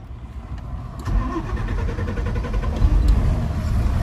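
Eicher 60 tractor diesel engine being started, a low cranking rumble that catches and settles into a steady, loud, close-up chugging idle, with a faint hiss above.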